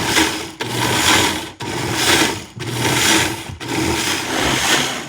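A blender pulses chopped onion for homemade Mexican salsa, four or five short evenly spaced bursts of whirring motor and chopping, each separated by a brief stop, loud and close.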